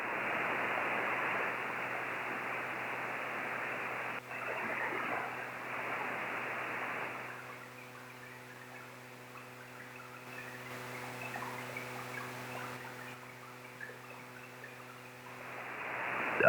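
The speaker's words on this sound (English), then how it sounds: "I'll turn up the noise cancellation settings and you'll hear a different kind of digital waterfall" Steady broadband hiss like rushing water from digital noise cancellation, with a low electrical hum and faint tones appearing partway through, continuous and moderately quiet throughout.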